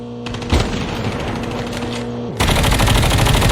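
Rapid bursts of automatic gunfire in Call of Duty: Mobile battle royale, sharp and loud, with a heavier continuous volley kicking in partway through, sounding like game weapon effects.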